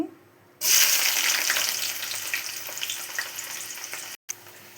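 Sliced onions hit hot oil for a tomato curry tempering, bursting into a loud, bright sizzle that starts abruptly and holds steady with crackling pops, briefly cut near the end.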